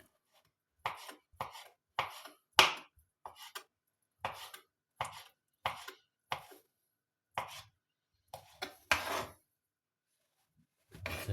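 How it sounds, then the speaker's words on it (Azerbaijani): Knife chopping crab sticks on a cutting board, a run of about fourteen sharp, close thuds in an uneven rhythm with short pauses between them, heard alone without talk. "Krabı isə ortadan belə bölüb bu şəkildə beləcə doğrayırıq."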